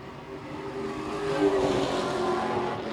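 A stock car engine at La Crosse Speedway grumbles down the front stretch with a carburetor miss, its uneven rumble swelling as it approaches and passes, steady and fairly loud with no talk over it.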